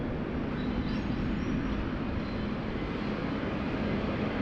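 Singapore Airlines A380 landing at Sydney Airport, a dense, even jet roar filling the whole span at steady loudness, with no voices.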